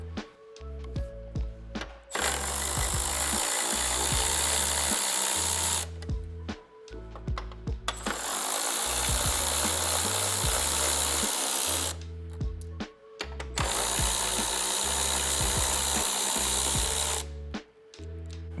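Power tool removing 10mm bumper bolts on a 2025 Toyota 4Runner: three loud, sustained bursts of whirring with brief pauses and clicks between them, close up, no talk.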